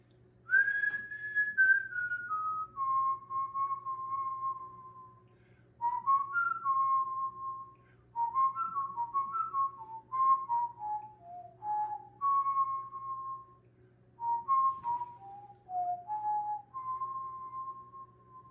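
A lone person whistles a long, flowing chant-like melody, phrases gliding and repeating with brief breaths between, over a quiet low hum.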